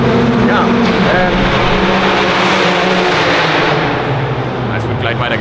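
A KTM X-Bow race car drives hard on the Lausitzring circuit, its engine a loud, sustained in-car drone with shifting tones, while a voice talks over it.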